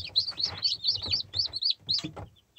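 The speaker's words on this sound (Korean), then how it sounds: "오늘 방금 태어난 이 병아리는 현재 네," Newly hatched Yeonsan Ogye chicks peep close by in a quick run of high, repeated chirps, with brief gaps between the calls.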